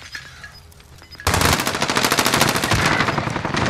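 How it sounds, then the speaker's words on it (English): Sustained automatic gunfire breaks out loudly after a quieter opening in the Warzone video game, continuing as rapid, dense bursts for over two seconds. "He just jumped out and started shooting."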